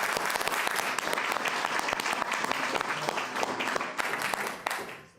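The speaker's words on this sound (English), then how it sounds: "Round of applause." Sustained audience applause fills a city council meeting chamber, a dense steady wash of many hands clapping for about five seconds before tapering off at the end.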